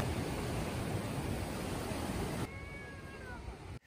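A cat meows a few drawn-out times inside a car, each cry rising and falling, heard near the end after several seconds of steady rushing noise that then drops away.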